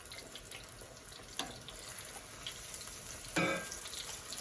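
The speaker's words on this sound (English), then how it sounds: "And then put it into the hot oil." Chicken pieces coated for Southern fried chicken sizzle in hot oil, a steady close hiss and crackle with a couple of brief louder pops.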